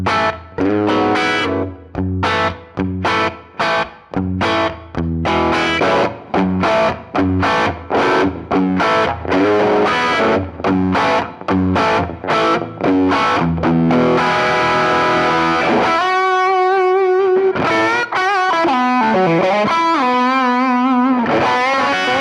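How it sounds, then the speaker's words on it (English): Electric guitar through a Fractal drive pedal, starting with choppy rhythmic chords and then switching to a saturated, sustained lead tone with held bends, loud and upfront with no voices. "I'll play a little bit with each pedal off and then kick the pedal on so you guys can hear what it's doing"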